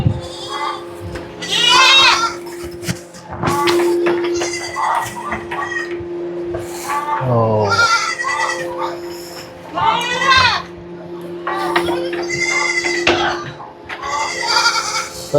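Goats bleat repeatedly and loudly on a farm raising about 500 goats, their calls overlapping and continuing throughout alongside people talking nearby.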